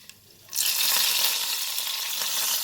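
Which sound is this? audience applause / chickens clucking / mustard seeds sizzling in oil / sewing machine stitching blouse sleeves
mustard seeds sizzling in oil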